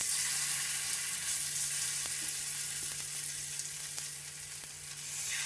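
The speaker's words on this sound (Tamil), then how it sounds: "இப்போ இதை நம்ம அவனில் வைக்காமல் தோசைக்கல்லில் ஃப்ரை பண்ணி எடுத்துக்கிறோம்." Squid marinated in tandoori masala sizzles in oil on a hot dosa griddle over a low flame, a steady close crackle with a faint hum and a few soft taps.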